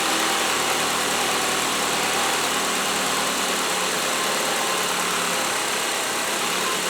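A car engine idles steadily after starting, a continuous close mechanical hum with light vibration and no voices.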